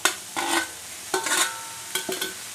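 Cut potatoes being stirred into a chilli masala in a pan give three short scraping swishes of a spoon, with a soft sizzle behind them and no talk.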